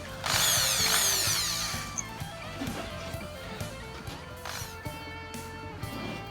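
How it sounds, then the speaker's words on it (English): A power drill drilling rivet holes in a Hobie Cat mast whines loudly for a couple of seconds, then keeps running at a lower, steadier buzz with faint mechanical clicks. "So we just drill them a little bit."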